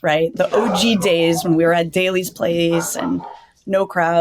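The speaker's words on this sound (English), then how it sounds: "excuse the dog" A dog barks in the background during an AEW wrestling podcast, its sharp barks mixed under continuous close conversational speech.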